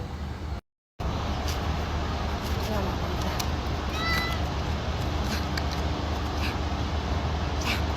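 A pet cat meows a few times, its calls fairly faint against a steady background of noise, with a short gap of silence near the start.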